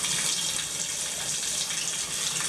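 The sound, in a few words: shower faucet running fully on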